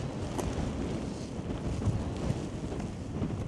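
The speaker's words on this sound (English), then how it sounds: "the wind here is ridiculous" Strong gusting wind during a heavy snowfall on a Toronto street among skyscrapers, a loud continuous roar buffeting the microphone with no talk.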